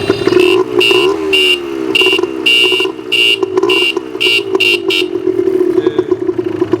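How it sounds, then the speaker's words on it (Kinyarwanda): A motorcycle horn honks in a series of short and longer blasts, loud and close, over a steady idling engine. "Iyo nshaka no kuvuza ihoni"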